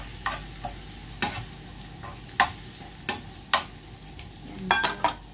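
Garlic sizzles in a pan while a utensil stirs and scrapes it, producing a soft steady frying hiss broken by about eight sharp clinks and scrapes at irregular intervals, close up and without talk.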